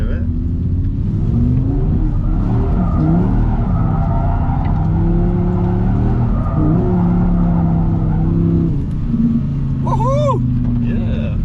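An Audi R8 GT with a V10 engine drifts in second gear, its loud sustained engine roar wavering in pitch with tyre squeal near the end, while excited voices speak and cheer over it.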